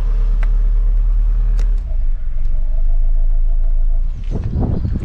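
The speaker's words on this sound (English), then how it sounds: "I love the sound of a Rover K-Series engine in the morning." Close, steady idle of a Rover Metro's K-Series engine, a low continuous rumble with a few faint clicks and a brief rise in revs near the end, no voices.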